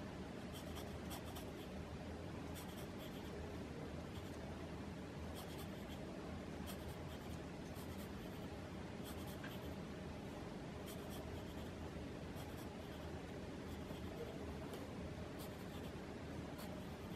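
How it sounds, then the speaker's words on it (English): Pencil graphite shading across paper: a steady, dry, close-up scratchy hiss with repeated stroke accents throughout, alone and with no talking. "it's gonna get a little bit of pencil shading"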